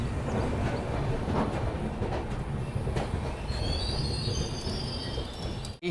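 Mandovi Express running from Goa to Mumbai in heavy rain: a continuous loud rumble of wheels on rails with rattling carriages, and high metallic wheel squeals appearing toward the end, with no talking.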